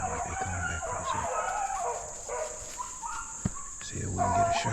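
A pack of young hunting dogs bays and yelps outdoors while chasing a rabbit through the brush, the cries steady and fairly distant, with a few sharper sounds.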